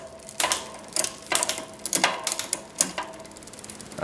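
Bicycle rear derailleur shifting gears, a series of sharp mechanical clicks and ratcheting ticks at irregular intervals, close and clear with no talk.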